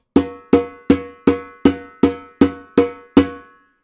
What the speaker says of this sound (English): So for me, this is a good open tone.